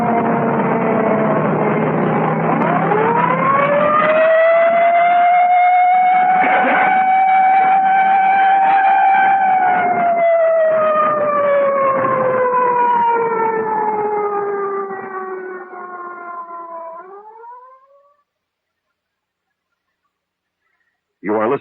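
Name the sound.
siren wailing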